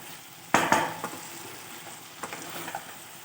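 Small morola fish chachchari with coriander leaves, given a brief stir in a pan: one sharp scrape of the spatula, then faint sizzling and a few light scrapes, close and quiet, no talking.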